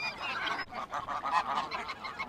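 A cluster of geese honks continuously at Marine Lake in Southport while being fed, with overlapping, fairly loud nasal calls close by and no talking.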